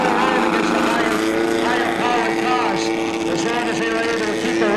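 A short-track race car powered by a Harley-Davidson motorcycle engine buzzes loudly through a turn at a weekly speedway race, a sustained revving whine under an announcer's voice.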